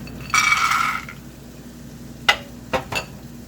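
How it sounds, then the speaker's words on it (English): Unsalted peanuts are sautéed in a pan for nasi lemak. A brief frying hiss is followed by sparse, sharp clinks and scrapes as a utensil stirs them against the metal, heard alone and fairly close. "So I will cook the peanuts here."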